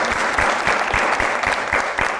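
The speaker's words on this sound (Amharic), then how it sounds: "እሺ አጨብጭቡለት" Studio audience applauding a contestant on a holiday quiz game show: dense, steady clapping with a rhythmic pulse that carries evenly through the whole stretch, close and fairly loud, with no talking.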